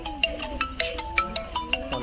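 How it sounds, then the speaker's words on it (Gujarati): A phone ringtone chimes in a quick, repeating electronic pattern of bright beeping tones, fairly close and clear with no talking. "ફોન તો આવ્યો."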